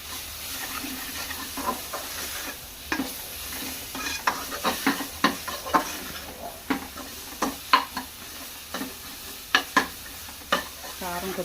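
Chili powder, coriander and cumin powder fry in a pan with a soft steady sizzle, punctuated by repeated scraping clacks of a spoon stirring, growing more frequent partway through.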